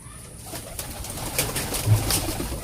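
Pigeons coo softly in a loft, their low throaty calls rising and swelling against a faint background hum.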